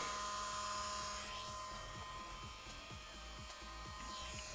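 A hairdryer runs with a steady, loud whir throughout and a constant high motor whine, close by, while a low rhythmic tapping pulses underneath.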